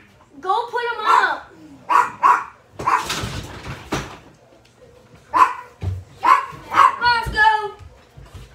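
Dogs at home bark in several loud, close bursts with yips and whimpers, spaced irregularly between pauses, while people talk nearby.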